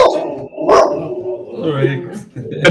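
A voice imitates a nymph barking like a dog, giving a few loud, close, yappy barks spaced out in short bursts amid spoken speech.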